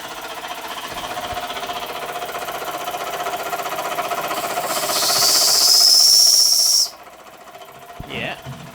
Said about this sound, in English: Yeah, we got whistle.